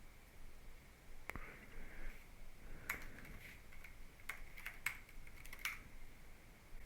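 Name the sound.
typing a password on a computer keyboard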